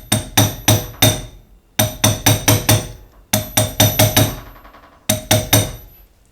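A small hammer gives light taps to a bearing being seated in a stainless steel washing machine drum. The taps come as crisp, ringing metallic knocks in quick bursts of three to six, with short pauses between the groups.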